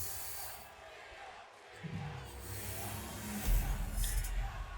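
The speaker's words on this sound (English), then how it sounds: "Crowd chanting for Rhea Ripley." A wrestling arena crowd in WWE 2K23 chants and roars for Rhea Ripley, a steady wash of massed voices that swells louder toward the end.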